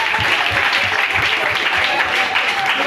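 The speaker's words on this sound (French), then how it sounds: "Acclamons plus fort." Church congregation applauding at a children's celebration service, a steady dense wash of clapping hands filling the whole stretch, fairly loud and continuous with crowd noise beneath.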